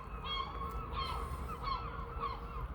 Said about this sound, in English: If you can hear us over the bloody seagulls, I swear to God.